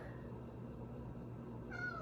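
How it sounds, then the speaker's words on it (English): A cat complaining with a meow near the end, a short rising cry against a quiet, humming room background. "So if you hear meowing, that's him."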